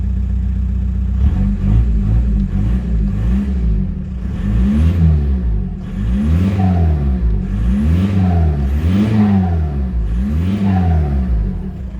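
A Volkswagen Golf 4 engine runs close by, its pitch rising and falling in a regular, repeated rev pattern.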